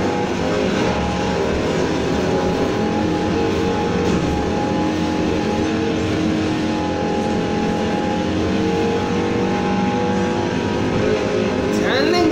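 A 2017 Porsche Panamera Turbo in Need for Speed Heat drives off-road, its engine giving a steady, loud roar under a dense layer of game sound for the whole stretch, with no talk.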